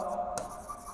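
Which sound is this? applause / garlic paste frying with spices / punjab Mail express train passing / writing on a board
writing on a board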